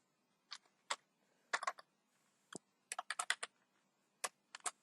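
Close, crisp keystrokes on a computer keyboard as PHP code is typed, coming in sparse single taps and quick clustered bursts with short quiet gaps, with no talking.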